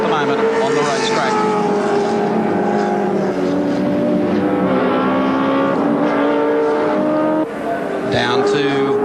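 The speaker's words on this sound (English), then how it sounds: "So Larry Perkins, here's Jimmy Richards, really throwing the little M3 around" A BMW M3 touring car races flat out at Barbagallo Raceway in the 1987 Australian Touring Car Championship, its engine a loud, sustained rasp with shifting pitch, under continuous race commentary.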